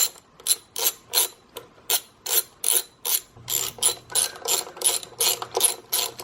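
A ratchet wrench with a 10mm socket removes coil pack bolts on a Saab 9-3, producing loud, close, rhythmic clicking strokes, about two per second, each a sharp burst of ratcheting pawl clicks with brief pauses between.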